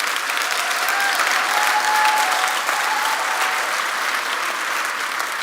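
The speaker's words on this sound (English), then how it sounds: "Can we get a round of applause for the people who pulled this event together?" Sustained applause from a large audience at a technology company keynote event, steady and dense throughout with no speech over it.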